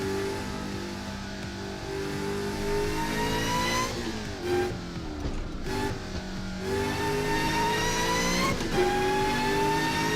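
A turbocharged car engine revs in the racing game Assetto Corsa, rising and falling through gear changes with a steady, fairly loud tone and brief dips between pulls.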